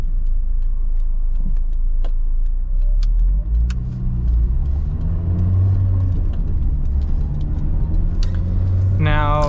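An Acura RSX with freshly changed oil rolls up and parks, its engine humming low and steady with a brief throttle swell midway, close to the microphone while someone talks over it.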